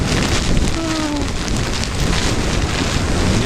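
Heavy rain ahead of an approaching storm hammers down in a dense, continuous hiss and patter close by, loud and steady throughout with faint gusts and no talking.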